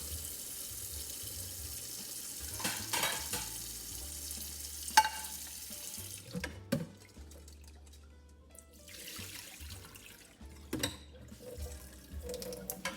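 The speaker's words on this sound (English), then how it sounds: "turn your water back on. You want just a slow, gentle stream to begin taking the shells off." A kitchen faucet runs a slow, gentle stream over hard-boiled eggs being peeled at the sink, with water splashing softly and shifting as shells and hands move under it, punctuated by a few light knocks.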